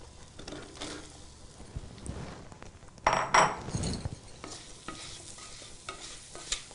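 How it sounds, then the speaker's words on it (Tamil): Mushrooms sautéing in melted butter seasoned with salt and pepper sizzle softly while a utensil stirs and scrapes the pan, with a louder burst of sizzle and clinks partway through. "இப்போது இதில் வந்து நான் இந்த மஷ்ரூம்ஸை போட போகிறேன்."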